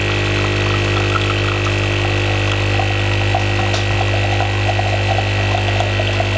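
A Nespresso Krups machine and a Dolce Gusto capsule coffee machine brew together, giving a loud, steady pump hum and drone with faint gurgling over it. The sound is continuous and close, and no one speaks.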